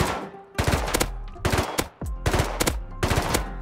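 Bursts of automatic gunfire in the Rust video game, several rapid volleys separated by short pauses, loud and close with no talking over them.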